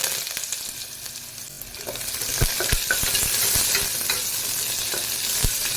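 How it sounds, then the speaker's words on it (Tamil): A loud, steady sizzle of onions and curry leaves frying in hot oil after mustard seeds, with scattered pops and the scrape of stirring, growing busier partway through. "கடுகு பொரிஞ்சதும் நம்ம இந்த வெங்காயம் கருவேப்பிலை சேர்த்துக்கலாம்."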